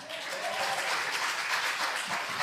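Steady applause from an audience in a Senate hearing room, a dense wash of many hands clapping that holds at an even level throughout, with no voices over it.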